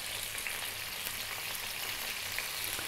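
Garlic and ginger sizzle in hot oil in a pan while cooking belt fish, a steady, crackling hiss with small pops, continuous and close.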